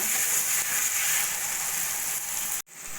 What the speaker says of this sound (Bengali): আলুটা মশলার সঙ্গে ভালো করে কষিয়ে নেব